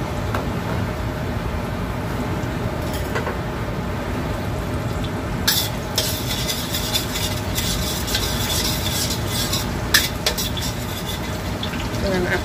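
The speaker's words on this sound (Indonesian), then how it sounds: "kita masukkan bawang. Kita goreng." Steady sizzling of onions frying in hot oil over medium heat, with occasional scraping and stirring clatters from a utensil against the pan, close and continuous.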